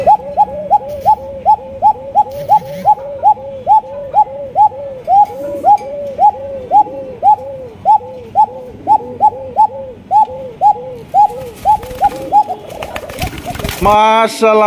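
A pigeon coos loudly and close, in a steady run of about two dozen evenly spaced calls, ending in a brief burst of flutter and noise.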